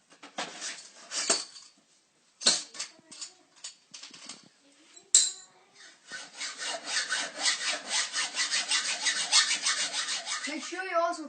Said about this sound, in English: Next you have to cut 10 centimeters off your scooter.